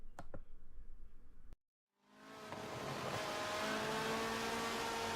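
Race cars launch from the start at Suzuka in a video game race: after a short break, a massed engine roar swells from quiet to loud, with rising revs building into a dense, sustained drone.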